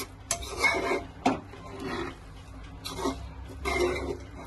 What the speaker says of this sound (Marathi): जो तांदूळ आपण टाकला मस्त मिक्स करून घेऊया